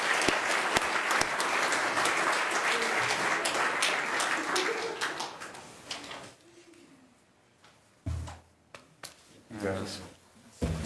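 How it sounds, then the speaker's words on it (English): A city council meeting audience applauds with loud, dense clapping for about six seconds. The applause then fades into a quieter room with scattered bumps and handling sounds. "let's give Mike a big round of applause for all the hard work"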